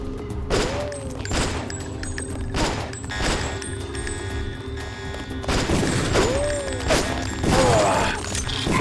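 Weapons fire in the action game The Nameless Mod as repeated loud, booming shots, some in quick bursts, under a continuous din of game noise, with no talking.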